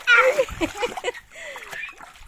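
Water splashes and sloshes as it is poured from buckets into an inflatable paddling pool, with some hot water carried from the house. Short bursts of splashing sound up close, while people talk over them.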